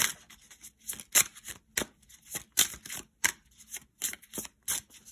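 Tarot cards shuffled by hand, a rapid run of crisp riffling bursts and flicks repeating at an uneven pace, close and fairly quiet with no voices.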